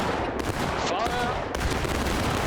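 Musket volleys crack in War of Rights, the 1776 event map set at Pry House, with a burst of overlapping shots at the start, more scattered firing afterward, and faint voices mixed into the dense battle noise.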